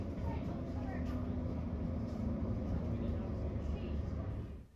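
A Newcastle light rail tram heard from the rear cab, running without overhead wires: a steady, loud low rumble and whine of the moving tram that continues throughout, then fades out at the very end.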